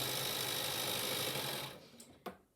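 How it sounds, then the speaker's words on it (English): A sewing machine stitches a quarter-inch seam on a fabric face mask, running steadily and close for under two seconds before stopping, followed by a few faint handling clicks. "I'm going to sew that part down at 1/4 inch."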